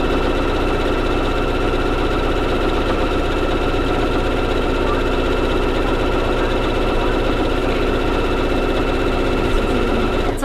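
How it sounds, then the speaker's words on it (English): Sewing machine running fast in zigzag stitch around a pillow edge, a loud, continuous whirring hum with rapid mechanical chatter, steady and uninterrupted. "I'm just going to real quick zigzag my way around my pillow edge"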